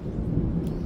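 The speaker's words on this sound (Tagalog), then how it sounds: "Ay, kumukulog-kulog pa nga oh" Thunder rumbling during a storm over a house roof, a low, continuous, fairly loud rolling roar across the whole moment, with no voices.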